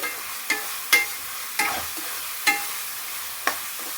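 Onion and chicken fry being stirred in a pan: a soft background sizzle punctuated by about six distinct spatula scrapes and knocks, roughly every half second to second, close and without speech.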